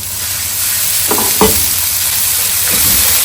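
Fried onion paste and whole fried onions sizzle in a hot pan for a beef kofta curry, a steady loud frying hiss with a few brief stirring scrapes and no voices.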